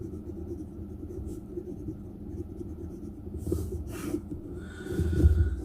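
A Montblanc Meisterstück 149 fountain pen with a wet, smooth nib, inked with Montblanc Burgundy Red, scratches softly across paper in steady strokes, with faint breathing and a louder rustle near the end.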